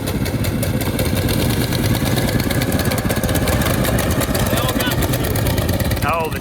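A three-engine 30 HP mini bike idles loudly as it warms up at a drag strip, a steady close rumble with a little revving, with voices talking over it.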